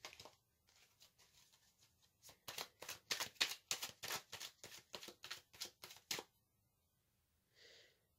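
Tarot cards shuffled by hand in a rapid run of crisp riffling slaps that builds and then stops, followed by a short soft rustle as a card is drawn; close and clear with no talking.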